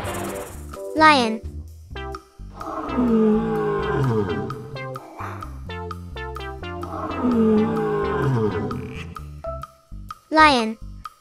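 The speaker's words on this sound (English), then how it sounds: "Lion." Two long, throaty lion roars, each lasting a couple of seconds, sound loud over bouncy children's music with short swooping effects in between and no spoken voice.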